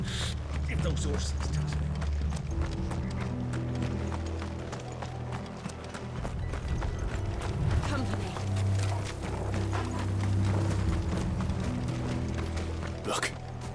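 Steady clip-clopping horse hooves trot along with creaking and rattling mechanisms in Final Fantasy XVI, a continuous rhythmic stream under occasional voices.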